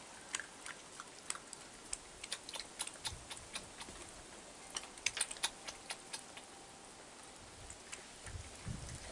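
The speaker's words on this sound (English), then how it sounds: "She'll be munching on that for a while." A raccoon munches on a large piece of food, making a steady run of faint, irregular crunching and clicking chews nearby.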